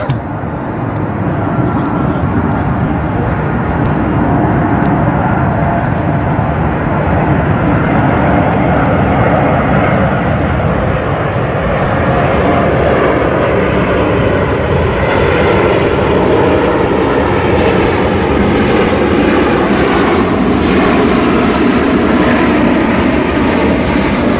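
An Airbus A380 airliner flying during its test flights, heard as a loud, steady, broadband engine roar that holds with little change throughout.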